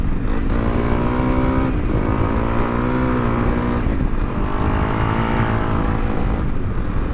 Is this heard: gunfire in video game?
no